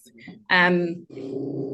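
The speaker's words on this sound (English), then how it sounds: "Sorry about my dog." A dog gives a short low growl and whimper, close and loud, breaking into a quiet room with a person talking nearby.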